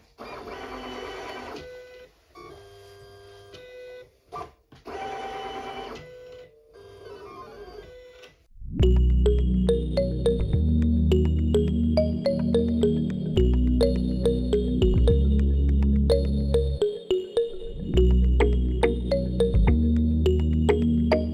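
A Silhouette Cameo 5 cutting machine cuts two small fabric rectangles, its motors whirring in steady, close tonal runs broken by short pauses as the blade head moves, after a few seconds of other quieter sounds at the start.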